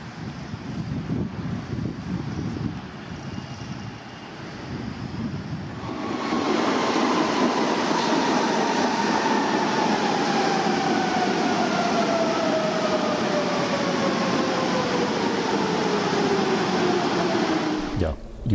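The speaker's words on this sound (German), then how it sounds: "wir sind im U-Bahnhof Mohrenstraße" A subway train at U-Bahnhof Mohrenstraße station in Berlin rumbles loudly through the platform, its brakes sliding down in a long squeal as it slows to a halt after quieter station ambience at the start.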